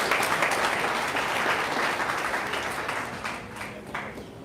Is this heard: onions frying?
no